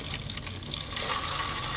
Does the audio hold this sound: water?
yes